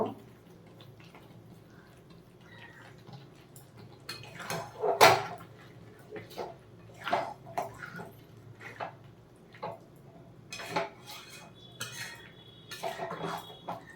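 Fried masala being stirred into chicken rezala in a cooking pot, heard as scattered spoon-against-metal scrapes and clinks that are loudest mid-way, with faint kitchen background and no speech.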